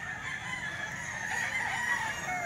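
A golden boy sweater gamecock offered for sale at a market crows through a steady, close, continuous call with faint crowd noise beneath.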